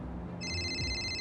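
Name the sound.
telephone ringing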